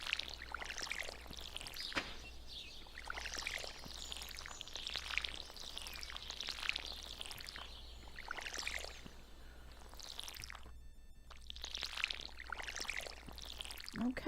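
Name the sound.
watering plants with watering can in Stardew Valley video game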